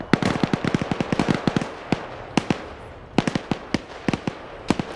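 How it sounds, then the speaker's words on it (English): Artillery rounds exploding in a military video game: a rapid, irregular string of sharp, loud blasts, some clustered close together and others spaced apart, continuing across the whole stretch with no talking. "They're calling artillery rounds at the moment. 3 rounds landing at Fox 1."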